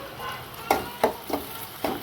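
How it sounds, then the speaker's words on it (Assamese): Onions go into hot oil in a pan, giving a low sizzle broken by a few sharp clinks and scrapes of stirring, close and moderately loud. "এতিয়া মই পিঁয়াজখিনি তেল গৰম হ'লে দি দিম তেল গৰম হৈ আছে"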